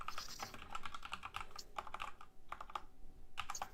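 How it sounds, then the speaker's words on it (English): Steady clicking of a computer keyboard being typed on, quick irregular keystrokes in bursts with a short pause, close and moderately quiet, with no talking. "all I can hear is James typing"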